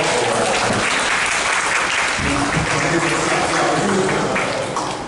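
A room full of people at a university leaders' event claps steadily and loudly, a sustained wash of applause that holds for several seconds before easing slightly.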